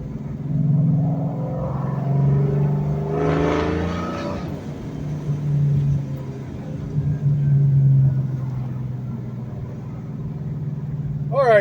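A 2004 Ford Mustang Mach 1 fitted with a ProCharger supercharger drives along with a steady low engine and exhaust drone, briefly swelling in a rev around the middle before settling back.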